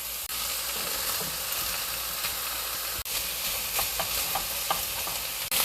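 Vegetables and onion sizzle and pop in a hot pan during stir-frying for japchae, a steady loud hiss with scattered crackles and stirring scrapes, two brief dropouts, no talk.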